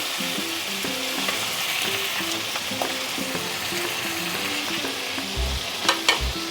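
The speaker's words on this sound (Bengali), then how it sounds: "মাছগুলোকে দুপিটেই ভেজে নেব" Fish fries in oil, cooked on both sides. A continuous close sizzle and crackle runs throughout, with a few sharp utensil knocks near the end and no talking.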